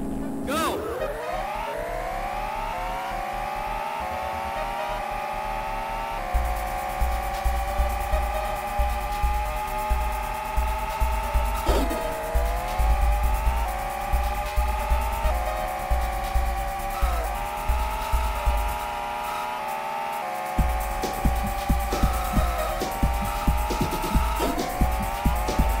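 Jaguar XJ220 race cars in a Sega CD racing game, engines droning and rising in pitch through gear changes, loud and continuous with synthesized game music pulsing underneath.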